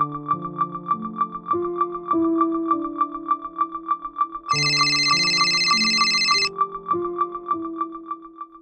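A phone rings as a call is placed in a Marathi TV drama scene, playing a clear, repeating electronic ringtone melody over a steady tick-like pulse, with a brighter burst midway and no talk.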